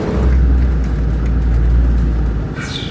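Four-wheel drive vehicle on a rough coastal route in Galicia, heard from inside as a loud, steady low engine rumble with rattles throughout, no talking.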